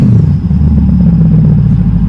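A supercharged Chevrolet Corvette C8 with a Magnusson Lingenfelter Stage 1 setup rumbles loud and close with its exhaust valves open, giving a steady, deep engine roar throughout.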